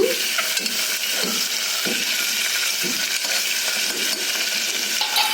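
Ingredients for paneer pulao are stirred in a sizzling pan, a loud, close hiss of frying with a series of distinct spoon scrapes and knocks against the metal at uneven intervals.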